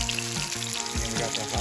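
Sand dabs fry in hot oil over medium heat, giving a steady close sizzle with light spatter and a couple of soft knocks, and no talk.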